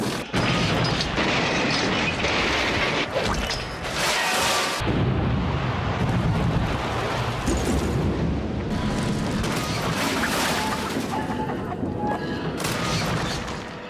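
Older Thomas & Friends train crash sound effects: a dense, loud barrage of crashing, smashing metal and booming impacts that rumbles on continuously with little let-up.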